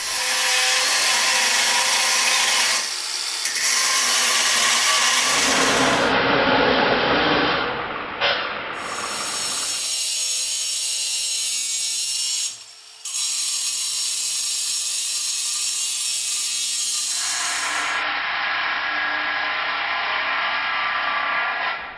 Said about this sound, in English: bonded abrasive discs, very cheap, cut well, cut clean, cut fast